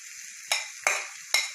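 Chicken roll filling with bell pepper frying in oil in a pan, a steady sizzle broken by three sharp stirring scrapes that bring brief bursts of louder crackle, close and with no voices.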